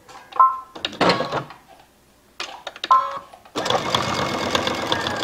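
A sewing machine runs short bursts of back stitches while a round placemat is sewn. Several brief mechanical whirring runs are separated by pauses, then a longer steady stitching run follows, all close and fairly loud.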